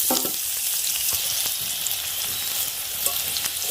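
Chopped onion and green chilli fry in a pan with a steady, close sizzle and occasional faint crackles and pops, with no talking.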